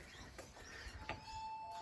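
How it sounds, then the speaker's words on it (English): A doorbell is pressed and gives a single sustained electronic chime that rings out steadily after a brief rustle at the door. "I'll ring the bell."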